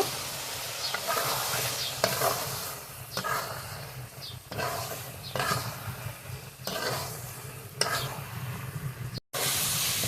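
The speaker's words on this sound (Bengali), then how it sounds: "আলু পটল খুব ভালোভাবে কষিয়ে নিয়েছি।" Potatoes and pointed gourd being stir-fried in a pan for a Bengali egg korma, with a steady sizzle and repeated scraping stirs at a regular rhythm, close up and with no talking.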